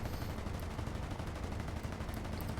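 Rapid machine gun fire from a Lancaster bomber's turret in a bombing video game, a dense continuous rattle of shots lasting the whole short stretch with no talk.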